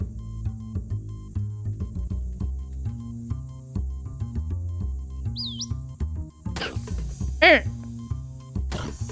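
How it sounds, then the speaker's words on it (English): Chirpy bird calls sound out in the video game Shadows Over Loathing, a few short rising tweets popping over a busy music bed and voices. "the bird noises are so good"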